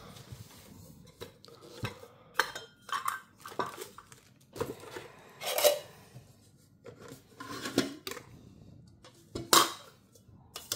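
A set of plastic dishes, plates and a deep bowl, is unpacked and handled, giving a series of light hollow clacks, scrapes and rubbing knocks at irregular intervals, close and quiet, with no talk.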